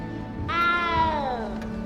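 A small frightened cat in Hogwarts Legacy gives one clear, drawn-out meow that slides downward, close and alone over quiet game ambience.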